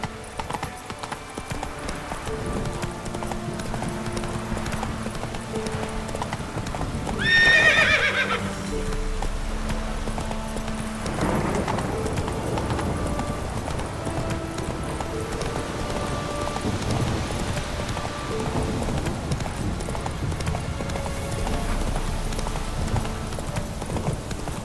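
Horse hooves gallop steadily through The Witcher 3 video game, a continuous clip-clop under layered game music, with a sharp whinny around the eighth second.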